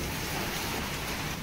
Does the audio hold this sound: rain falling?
yes